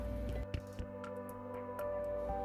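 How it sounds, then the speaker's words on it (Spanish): Soft wet squishes and a few drips as peeled tomatoes are dropped in for a blended red salsa, quiet and close with no talk. "Vamos a empezar a agregar los tomates."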